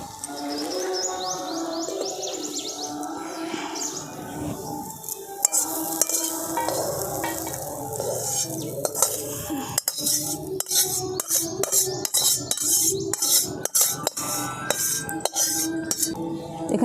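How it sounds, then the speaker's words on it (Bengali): A spoon clinks and scrapes against a pan while stirring muri pulao, a puffed rice dish, with a light sizzle underneath; the metallic taps grow quicker and sharper toward the end, with no talking. "দেখুন সমস্ত কিছু একসঙ্গে খুব ভালো করে আমি মুড়িটার সঙ্গে মিশিয়ে নিয়েছি"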